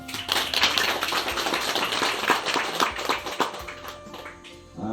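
Village audience of aid recipients at an Indonesian community gathering clapping together, a brisk, moderately loud patter of many hands with faint talk and room noise beneath, tapering off near the end.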